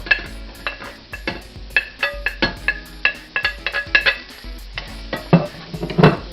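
Chopped onions go into a hot pan for cornbread Thanksgiving dressing, with a soft sizzle under a run of close metal clinks and scrapes as a spoon stirs against the pan.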